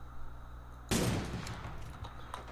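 A sudden loud burst of gunfire erupts in the shooter game Cyber Hunter after a quiet hum, a dense volley of shots that rings out and slowly decays with scattered further pops.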